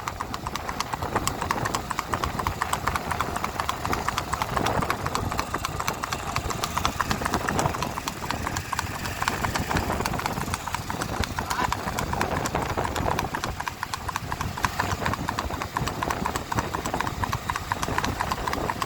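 Steady rapid clip-clop of a Marwari horse's hooves on a hard road in Anjar, Kutch, continuous and close, over a busy background of engine and crowd noise.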